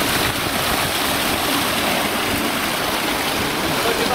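Water rushes through a breach that beavers gnawed in the dam of a northern pond, a steady close broadband gush with no pauses throughout.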